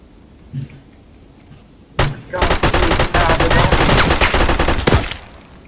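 Gunfire in an airfield fight within a video game: quiet moments then sudden loud bursts of rapid shots and crackling volleys, with a short pause before a final burst.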